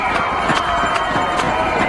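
A dense crowd of spectators cheers on marathon runners, a loud continuous roar with rhythmic clapping peaks, heard close and with a voice faintly underneath.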